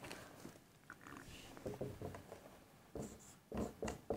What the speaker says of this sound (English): I'm going to write few lines, outlines, and on that we will start a story.